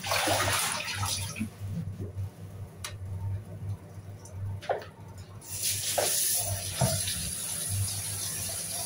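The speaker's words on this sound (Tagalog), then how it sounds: "Hugas pa para sure na malinis." Food being rinsed in a basin of water in a home kitchen, with splashing and sloshing bursts over a steady low hum, close and moderately loud.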